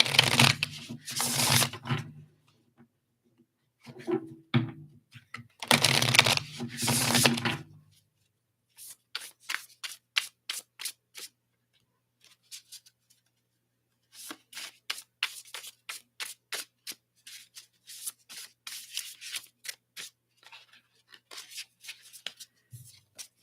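Bursts of shuffling of an oracle deck, two long riffles early on followed by many quick, crisp flicks and taps as cards are handled, close and fairly loud.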